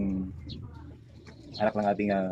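A slate-coloured racing pigeon gives soft, low cooing calls close by, partly overlapped by someone talking.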